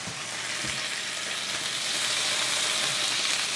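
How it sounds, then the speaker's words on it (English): Asparagus fries in butter on a Ninja Foodi XL griddle, a dense, steady sizzle with crackles and spits of splatter, heard up close with no voices. "I'm gonna close it because we have a bit of splattering"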